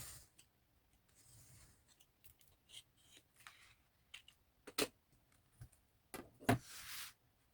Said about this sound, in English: Now make the second cut along the dashed line.